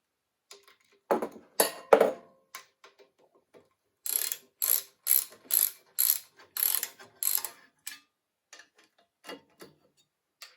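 A hand ratchet tightens parts on a Lycoming O-360 aircraft engine. It gives a few loose clicks, then a quick run of about eight crisp ratcheting bursts, then sparse ticks, all close up, with no voices.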